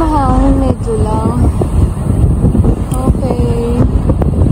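Wind buffets the microphone with a steady rumbling roar outdoors in Taichung, Taiwan, while voices speak intermittently over it.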